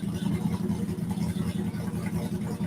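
A car engine with Gen 2 parts and a relocated intake runs with a steady, throbbing low rumble, close and continuous, the mean-sounding note pulsing evenly throughout.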